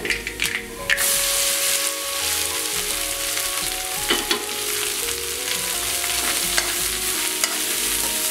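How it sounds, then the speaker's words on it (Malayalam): Cooked long beans tossed with browned onions in a Kerala-style cheenachatti wok keep up a constant, close sizzle, with occasional scrapes and clinks of the stirring spoon against the pan. "രണ്ട് മിനിറ്റ് നേരം ചീനച്ചട്ടിയിൽ കിടന്ന് ഉലകട്ടെ"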